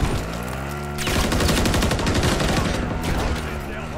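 Rapid automatic gunfire in Call of Duty Modern Warfare 3 Ground War on Xbox, dense continuous bursts of shots close and loud, with a brief pause before the firing kicks in.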